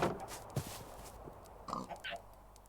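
Pigs grunt in the video game TerraFirmaCraft: a few short, faint snorting grunts at a livestock pen, with someone talking over them at times.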